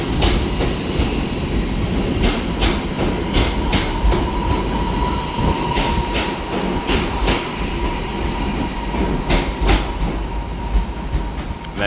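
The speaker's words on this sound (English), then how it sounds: "departing out now is 323-237, working the service to Stoke-on-Trent" A Class 323 electric multiple unit pulls out of Manchester Piccadilly station, with steady rumbling and repeated rhythmic wheel clicks over rail joints filling the whole stretch, close and fairly loud against station ambience.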